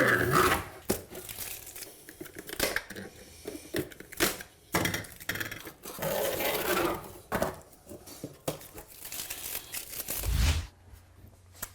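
Plastic sheeting peeled back by hand in a shower during waterproofing work, giving an irregular run of close crinkling, tearing rustles with brief pauses, no talking.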